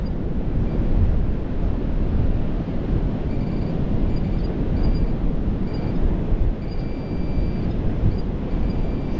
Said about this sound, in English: I suppose I can't hear anything because of the wind.